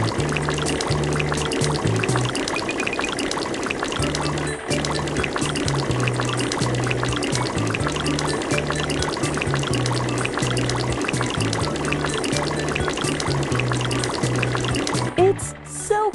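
Water pours and splashes continuously to rinse a van at a car wash, a loud steady gush with trickling under a cheerful background tune that runs throughout.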